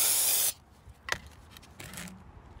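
Water sprayed onto a car brake rotor, a loud half-second hiss followed by faint drips and light handling sounds.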